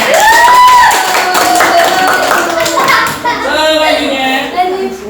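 A classroom of children clapping hands at a teacher's prompt during a lesson, a steady rattle of claps mixed with kids' voices and chatter throughout.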